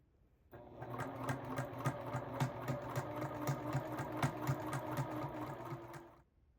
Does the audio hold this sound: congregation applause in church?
no